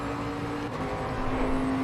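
A GT3 race car in the game Assetto Corsa Competizione accelerates with a steady whining engine note, slightly rising toward the end, with the tyres spinning up hard under power; no voices are heard.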